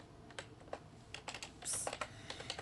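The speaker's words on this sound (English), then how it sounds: "So I am going to type in light butter." Quiet, quick typing on a computer keyboard while entering a recipe ingredient, a rapid uneven patter of soft key clicks close by with no voice.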